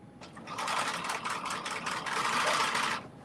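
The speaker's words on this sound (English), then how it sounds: "all I'm doing right now is sewing the mesh onto the back" A sewing machine stitches mesh onto the back of a dress along the seam allowance. It runs close and fast in one continuous whirring burst lasting about three seconds, with no talking.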